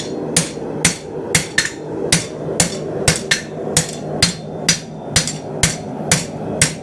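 Sharp metallic hammer strikes ring out as a farrier flattens a horseshoe with overlapping blows, a steady rhythm of about two per second, each blow loud and close with a brief clanging decay.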